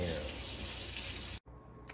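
Cold water runs steadily from a tap into a medium saucepan, a close, even gush that stops abruptly near the end, followed by faint room sound.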